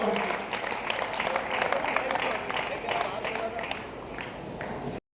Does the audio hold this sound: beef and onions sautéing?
no